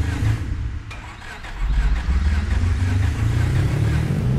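A car engine in the racing video game Apex Point cranks and catches, then settles into a loud, rumbling low idle that swells after a brief dip, close and continuous with no talk over it.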